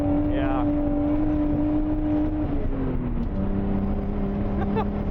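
A Nissan A31 Cefiro, driven flat out in third gear uphill, holds a loud, droning engine note that sags a little in pitch as it bogs down. A voice talks over the engine.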